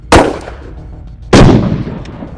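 Two loud close gunshots from a .44 Magnum firing 240 grain jacketed hollow point rounds at a UC body armor plate, each a sharp crack with a short ringing decay, about a second apart.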